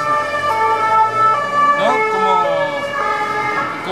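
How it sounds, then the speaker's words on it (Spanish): Emergency sirens wail along a Paris street with steady rising and falling tones, loud and close over road traffic, and a person speaks briefly. "Las sirenas en París."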